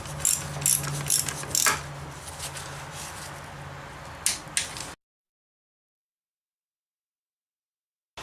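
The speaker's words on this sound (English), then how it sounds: "now we're going to torque these to 17 foot-pounds" Torque wrench tightening gearbox bolts to 17 foot-pounds, close ratcheting clicks in short irregular runs, then a sudden cut to silence.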